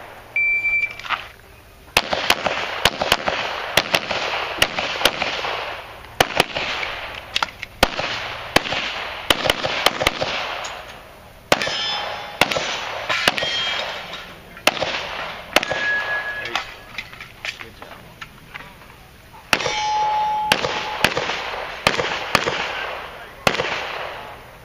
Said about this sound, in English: 53 shots at that little popper.